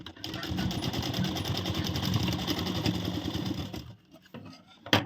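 A sewing machine stitching a princess-cut broad-neck blouse, a fast steady mechanical whirr with rapid needle ticks, close, running for about four seconds before stopping, followed by a brief handling knock.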